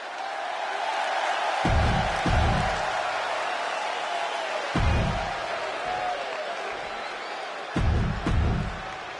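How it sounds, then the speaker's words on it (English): Crowd noise from a WWE 2K26 wrestling video game arena, a steady roar of cheering with brief louder swells of whoops and applause, no talk over it. "No surprise, the superstar is bringing the crowd to their feet."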